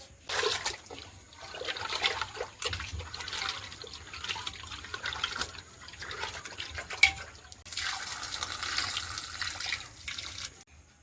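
Red and green lentils being rinsed by hand in a kitchen, water splashing and sloshing in a bowl under running water in irregular bursts, moderately close, with no one speaking.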